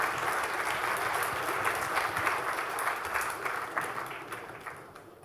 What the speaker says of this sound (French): Merci d'applaudir Laetitia Tissot-Bonvallon